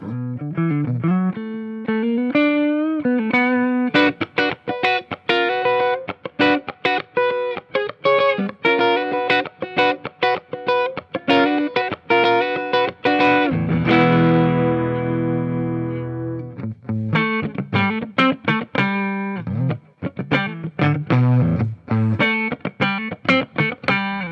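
Distorted electric guitar playing a steady run of chords and single notes, with a warmer, darker tone and a brief sustained swell midway.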